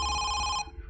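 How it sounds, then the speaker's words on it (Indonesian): A telephone rings in the horror video game Home Sweet Home: one steady electronic bell tone, loud and close, that stops abruptly after about two thirds of a second, leaving quiet background. "Okay, ada suara telepon."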